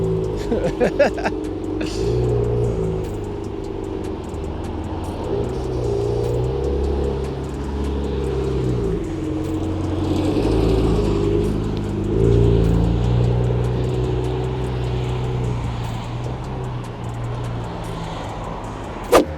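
A BMW M6 convertible engine drones and revs at moderate volume while driving, pitch rising and falling, with people talking over it intermittently.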